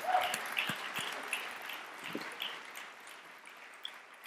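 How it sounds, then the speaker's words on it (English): An audience gives faint, distant applause for five panelists at a justice innovation pitch competition, with a soft, steady patter of claps that thins out toward the end. "Yeah, one more round of applause for all five panelists"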